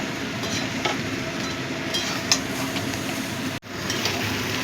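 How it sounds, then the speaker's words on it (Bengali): Potatoes and jackfruit sautéing in a pan for mutton kima with jackfruit, a steady loud sizzling hiss with faint stirring scrapes and one brief break near the end. "এবার এই আলু আর এঁচোড় দিয়েও একটুখানি কষিয়ে নেব।"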